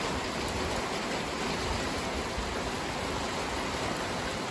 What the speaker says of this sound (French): pas de neige, hein, mais une très forte pluie